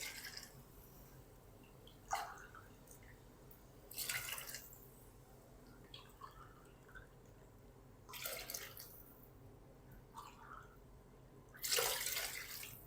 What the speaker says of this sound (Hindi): इसके अंदर ना मैं पानी जो है वो 1 लीटर शामिल करूँगा, यानी 4 गिलास।